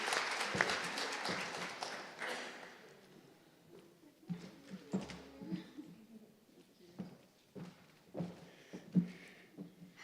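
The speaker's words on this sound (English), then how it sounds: "A louder round of applause, please." Audience applause at a summit conference rises and fades in irregular bursts, fairly distant and moderate, with a few louder claps standing out near the end.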